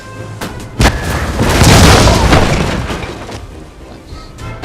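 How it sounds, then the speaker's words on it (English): Cannon fire in the Napoleonic strategy game Napoleon: Total War, a sharp boom followed by a long rolling rumble of artillery and scattered blasts lasting several seconds, with no talk. "right-click your mouse to order your cannons to attack."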